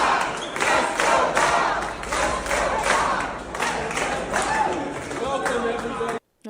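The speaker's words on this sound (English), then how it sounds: "it shows everybody cheering for him" A crowd cheers and chants in unison for Bob Ferguson, a loud, rhythmic rally chant repeating steadily with claps and shouts mixed in, then cutting off abruptly near the end.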